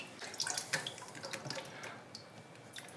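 Water running from a newly installed toilet fill valve, a steady close splashing and trickling with small drips, moderately quiet and unbroken, with no voices.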